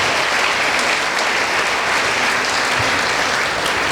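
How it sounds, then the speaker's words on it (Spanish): Loud, sustained applause from a Sunday school gathering in honour of the teachers, a dense even wash of clapping hands that holds steady throughout with no talking. "un aplauso para ellos"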